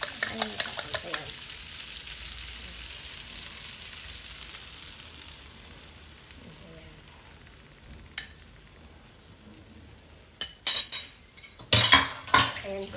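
Eggs fry with bitter gourd in a pan, a steady soft sizzle running throughout, broken near the end by a few sharp clinks and scrapes of a utensil against the pan.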